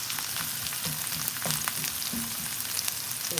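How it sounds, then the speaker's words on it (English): Onions and garlic sweat in hot oil in a cast iron skillet, giving a steady, close sizzle with crackling pops and a few faint stirring clunks throughout. "we're gonna start sweating our onions and our garlic"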